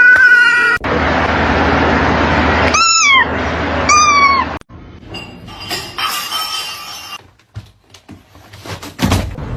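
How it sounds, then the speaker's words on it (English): A little kitten gives two short, high meows close by over a steady background hum, followed by faint clinks and rustling. "Look at this little kitten."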